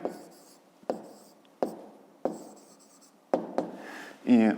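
A pen writes out a fifth-grade math solution on paper, a series of distinct scratchy strokes at a regular pace, close and fairly quiet, ending with a brief louder rustle.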